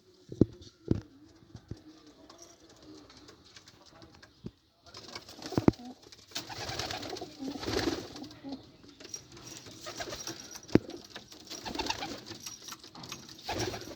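Pigeons coo softly at close range amid rustling, fluttering and scattered taps, getting busier and louder in the second half.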